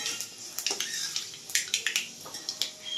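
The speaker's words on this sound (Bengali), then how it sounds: "তেল গরম হয়ে গেছে, এবারে দেবো 5 ফোড়ন আর একটা শুকনো লঙ্কা ফোড়ন দেব।" Five-spice seeds and a dried red chili tempered in hot oil for a drumstick-flower curry: quick sizzling crackles and sharp pops close by, irregular and continuous over a few seconds, with no talking.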